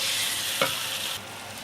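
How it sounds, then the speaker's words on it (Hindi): Ginger garlic paste frying in a pan for a spicy gavran chicken dish, a steady close sizzle with a brief stirring scrape partway through before the sizzle drops slightly quieter. "अदरक लहसुन के पेस्ट को अच्छे से भूनेंगे, उसकी खुशबू जाने तक भूनेंगे अच्छे से।"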